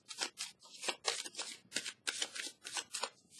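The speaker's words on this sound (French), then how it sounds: "OK, on va piger une petite carte ici." Tarot cards are shuffled by hand in a quick, even run of riffling bursts, close and fairly quiet, with no voice over them.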